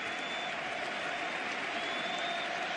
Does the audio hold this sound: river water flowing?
no